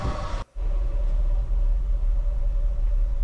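A 1964 Ford F100 pickup truck with electronic ignition running, a loud, steady low engine rumble heard from inside the cab, broken by a brief dropout near the start before droning on evenly.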